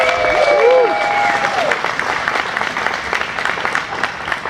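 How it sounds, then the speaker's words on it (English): Applause from a crowd gathered at a Carroll Shelby tribute event, a steady wash of clapping that holds for several seconds, with a brief whistle-like tone near the start. "How about a big round of applause for Jenny Shreves."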